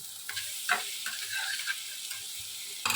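Small chicken pieces coated in cornflour, ginger and garlic paste being stirred with ground black pepper in a pan, a steady close sizzle broken by light scraping strokes of a spatula.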